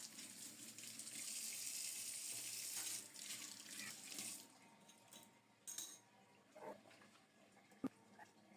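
A kitchen tap runs steadily as a peeled ridge gourd is washed under it, a continuous hiss of water that stops partway, followed by a few faint drips and small clunks at the sink.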